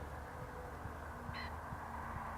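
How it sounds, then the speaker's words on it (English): A faint, distant two-note bird call sounds once over steady wind and rushing river noise in open South Downs countryside. "And chirping of pheasants."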